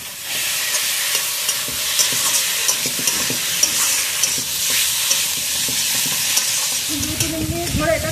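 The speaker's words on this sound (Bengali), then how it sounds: "2-3 মিনিট ধরে এটা কষিয়ে নিলাম।" Rui fish with potatoes and green chillies sautéing in a pan, a loud, continuous sizzle with scraping stir strokes throughout, no talk, and a louder clatter of stirring near the end.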